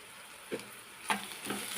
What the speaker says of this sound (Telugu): ఉల్లిపాయలు మగ్గినీయలేదు కొంచెం కరివేపాకు వేద్దాం